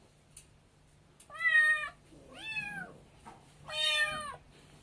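A small kitten shut inside a cage meows for its mother outside: three clear, drawn-out plaintive meows with short gaps between them, close and alone against a quiet background hum.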